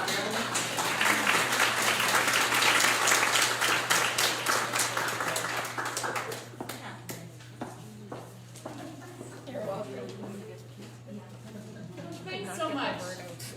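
Audience at an International Women's Day event applauds to welcome a speaker on mindfulness-based stress reduction; loud dense clapping fades after about six seconds into scattered claps, with talking.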